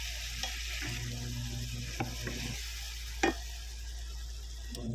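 Marinated beef bistek sizzles steadily in a hot pan, with a constant frying hiss and a few sharp clacks of a utensil stirring the meat, close and loud with no talking.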